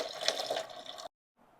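Coolant drains from the radiator system of an Alfa Romeo GTV, a steady, close splashing pour of liquid that cuts off abruptly, followed by a faint trickle.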